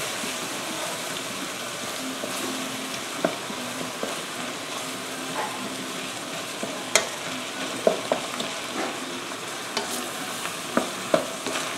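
Ground beef with spicy hot Rotel stirred in a frying pan, a soft steady sizzle beneath occasional scraping clicks of the spoon against the pan, quiet and close.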